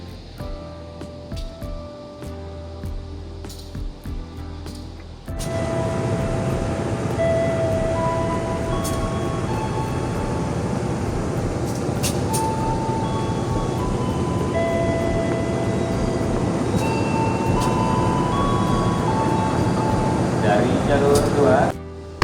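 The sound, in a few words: Kutojaya Selatan passenger train departing Tasikmalaya station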